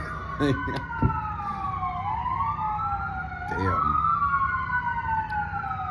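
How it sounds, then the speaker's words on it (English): An emergency siren wails up and down in sweeping tones as a vehicle passes nearby, with traffic rumble and a brief spoken word. "because that's a siren"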